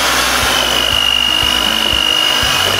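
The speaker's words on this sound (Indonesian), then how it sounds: "Sambil kita mixer, kita masukkan telurnya satu persatu." An electric mixer beats hot choux pastry dough as eggs go in one at a time, a steady close whirring hum with a faint regular thumping of the beaters against the bowl.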